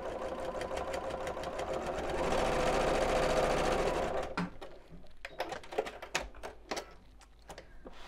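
A sewing machine stitches a viscose bag with a steady, continuous mechanical whir that builds and then breaks into a series of sharp, uneven clicks and taps.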